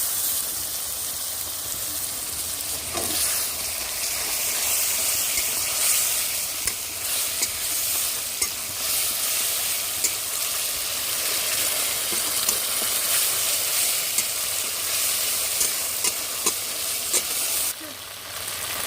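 Ground spice paste with dried red chilli hits fried onions in a hot pan for a rui fish curry, sizzling loudly and continuously with scattered spatula scrapes and stirring taps.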